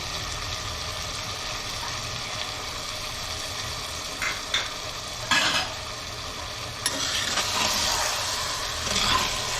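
Country chicken masala with chilli powder and roasted ground spice cooks in sesame oil in a clay pot, a continuous close sizzle with occasional scraping and stirring strokes that grow busier toward the end.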